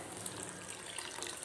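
Water poured into cornflour to dissolve it for pepper soup, a faint, brief, steady trickle of liquid with no talk.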